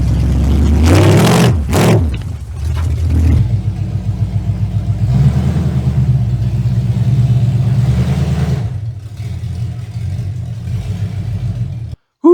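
An old rusty truck without power steering, its tire flat, rumbles close by as the engine revs hard, then settles into a steady low idle while being backed up.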